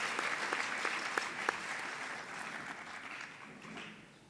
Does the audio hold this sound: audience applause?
yes